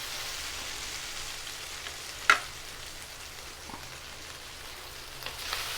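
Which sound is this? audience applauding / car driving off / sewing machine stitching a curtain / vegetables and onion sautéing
vegetables and onion sautéing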